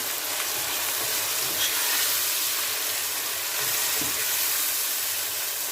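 Chopped tomatoes frying with salt in a pan for chicken biryani give a steady, close, bright sizzle and hiss throughout, with no talking.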